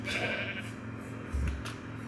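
Sheep bleat in Minecraft, a few game-style bleats in a valley by a river, heard over a steady low ambient background and fairly close.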